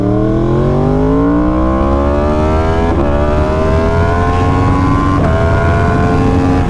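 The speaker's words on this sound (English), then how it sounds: "Oh, car coming." A car approaches and passes on a road, its engine note climbing steadily in a strong harmonic whine, loud and close over constant road and wind roar.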